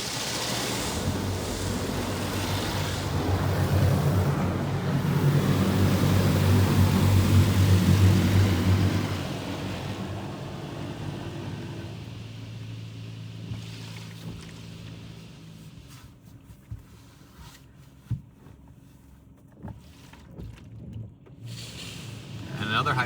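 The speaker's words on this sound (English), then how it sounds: "I believe we get a high pressure rinse next" Mark VII Choice Wash XT car wash high pressure rinse, a loud rushing water roar heard from inside the car that fades after about ten seconds to quieter dripping, with occasional speech.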